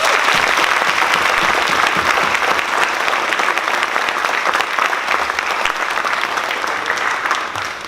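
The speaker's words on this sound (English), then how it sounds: "can we please give a round of applause to all the students who are celebrating here tonight" Sustained audience applause fills a school awards night honoring students, a dense, steady wash of clapping from a large crowd at close range, with no voices rising above it.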